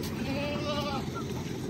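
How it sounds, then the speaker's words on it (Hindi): A Barbari breed goat bleats once in a wavering, nasal call lasting about a second, close by and over a steady background hum. "देखिए एक ये बर्बरी नस्ल की बकरी है, बहुत अच्छे फ्रेम में।"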